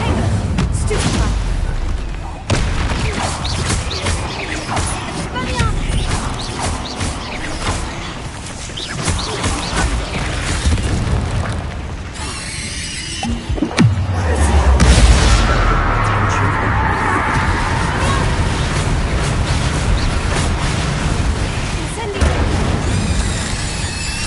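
Explosive Bombarda spell blasts in Hogwarts Legacy, a deep boom near the middle of a dense, busy game soundscape with music and effects running throughout, loud and close.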